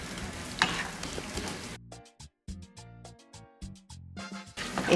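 Salvadoran casamiento of rice and beans fries in a pan with a little broth added. It sizzles closely, and a spoon stirs it in uneven scrapes and pauses, and the sizzle comes and goes.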